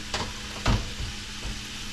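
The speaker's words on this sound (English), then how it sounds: "They got a little bit of sizzle going on." Sausage sizzling in a pan over medium-high heat, a soft continuous frying hiss broken by a few brief stirring scrapes and knocks, close and fairly quiet.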